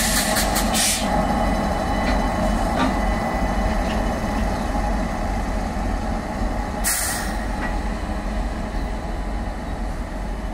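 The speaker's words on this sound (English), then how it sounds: "box and wagon, huge coal loaded," Twin WAG9 electric locomotives at Bilaspur haul heavily overloaded wagons of dust coal. A steady, loud rumble of rolling wagons carries throughout, with a few sharp metallic clanks and a brief hiss near the end.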